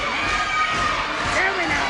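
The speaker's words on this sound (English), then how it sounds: "Crowd don't like it." A wrestling audience at a British World of Sport bout reacts with disapproval to a Boston crab hold. A short, loud burst of crowd noise with jeers and shouts fills the whole moment.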